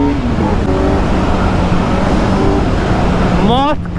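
A Kawasaki Z900 motorcycle with stock exhaust accelerating in third gear, a loud steady engine drone that climbs sharply in pitch near the end as it revs up, with someone talking over it.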